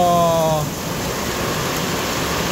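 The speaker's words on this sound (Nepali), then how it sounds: "कस्तो ठुलो पानी आइरहेछ कस्तो धेरै पानी परिरहेछ" Heavy rain pours steadily as a dense, constant hiss, close and loud throughout, with a brief tonal sound at the very start before the downpour continues alone.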